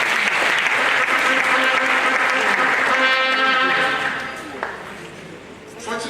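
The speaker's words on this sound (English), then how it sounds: "So, Professor Lillian Mathieu Salabi, please let's give her a round of applause." An audience at a lecture gives a professor a loud, dense round of applause that fades after about four seconds, with a voice speaking over the tail.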